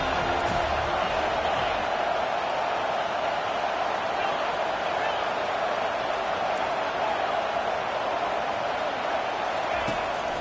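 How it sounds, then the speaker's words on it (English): Stadium crowd roaring in the football video game College Football 25, a dense, sustained wall of cheering and noise that stays loud and even, with commentary voices mixed in underneath. "this crowd is tearing the lid off this place"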